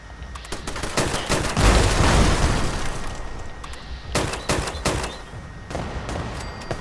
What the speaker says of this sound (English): I'm gonna go see what's shooting.